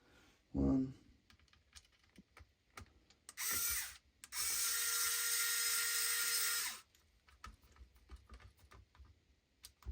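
Screws being driven into a Claw8ai handheld's joystick housing during a spring swap: a short whirring screwdriver burst, then a longer steady buzzing run, framed by small scattered clicks and handling taps, close and with no talking.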